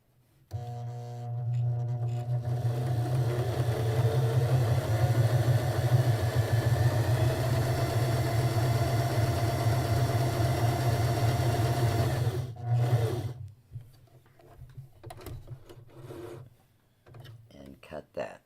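Sewing machine stitching a quilt patch block, a steady close motor hum with rapid needle clatter running for about twelve seconds, then stopping, followed by quiet handling sounds.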